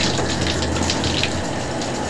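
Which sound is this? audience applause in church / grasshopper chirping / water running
water running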